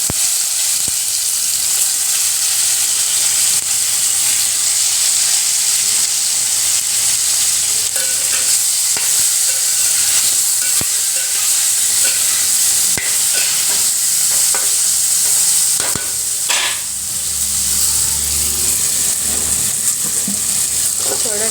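Mustard seeds and cumin sizzle loudly in hot oil for a brinjal curry, a dense, constant crackling hiss that runs the whole time, with a few stirring scrapes and knocks near the end.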